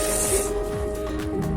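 A steam pressure washer sprays water to blast dried, hardened clay off a car's over-fender mold, giving a steady loud hiss with a mechanical hum underneath, close to the listener.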